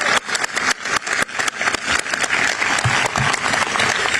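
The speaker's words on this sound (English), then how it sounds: "Give them a big round of applause as we start their graduation today" An audience claps steadily and loudly throughout a military change of command ceremony for U.S. Southern Command, a dense, continuous round of applause with no talking.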